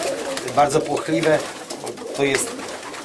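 Pigeons in a breeding loft coo and flutter close by, with several bursts of bird calls mixed under steady Polish conversation between men.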